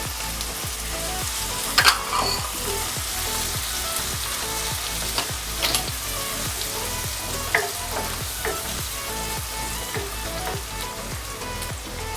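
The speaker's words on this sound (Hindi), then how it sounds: "और अब हम जो है इसके अंदर डालेंगे चॉप जो हमने प्याज बताई थी वो। साथ ही हम कड़ी पत्ता डाल देंगे।" Chopped onions and curry leaves frying in oil for aloo bharta, giving a dense, continuous close sizzle with occasional stirring clatters and brief louder bursts, and no voices.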